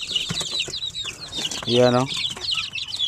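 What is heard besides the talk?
chicks at a poultry farm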